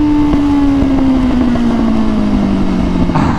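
A BMW S1000RR 1000cc sport bike engine revs hard during a wheelie, a loud, steady high-pitched drone sliding slightly lower in pitch, with wind rush and a sudden shift near the end.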